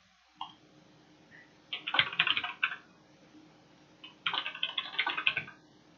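Quick bursts of typing on a Bloody gaming keyboard, two clusters of rapid clicky keystrokes separated by quiet, close and fairly soft with no talk.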